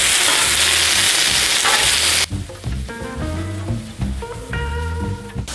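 Fajita vegetables hit a hot griddle with a loud, dense sizzle, then are stirred and scraped, giving rhythmic clattering spatula strokes over ongoing frying crackle.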